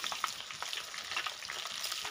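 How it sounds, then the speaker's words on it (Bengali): Bay leaf, cardamom, cinnamon, cloves, dried red chillies and coconut fry in hot oil for a mixed vegetable pachan, crackling and spitting in a lively sizzle with small irregular pops, no talking. "ফোড়ন, তেজপাতা, এলাচ, দারচিনি, লবঙ্গ ফোড়ন দিলাম। দিয়ে দিচ্ছি শুকনো লঙ্কা, দিয়ে দিচ্ছি নারকেল"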